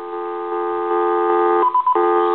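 A Chinese hand-carved dragon telephone switched on emits a steady electronic dial tone, a loud layered hum that steps up in volume, with a brief break and a few quick beeps near the end.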